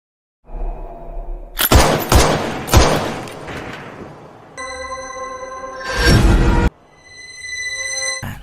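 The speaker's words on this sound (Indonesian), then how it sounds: "Kale menembaknya secara bertubi-tubi hingga dia tewas mengenaskan" Gunfire rings out in a Thai horror film scene, with several sharp loud shots and crashes layered over a dramatic soundtrack that carries ringing tones.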